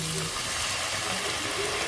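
Tomato paste sautéing in a pan for pasta sauce, a continuous close hissing sizzle with no gaps.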